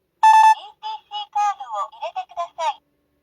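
A 1992 Mercedes 300SE's dashboard gives a single clear, bright chime as the ignition is switched on, followed by a voice speaking in short bursts.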